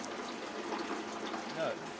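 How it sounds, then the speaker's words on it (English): Wort splashes from a hose into a fermenter during homebrewing of a Sierra Nevada–style pale ale, giving a steady close trickle and splatter with a brief louder gush near the end. "we're getting plenty of splashing in there, plenty of aeration"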